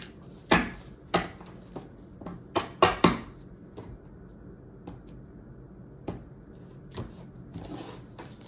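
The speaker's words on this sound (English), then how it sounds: "we're just going to cut the deck" A deck of tarot cards is cut and handled on a table, giving a series of sharp, close card slaps and taps, clustered early and then more sparse, in a quiet room without talk.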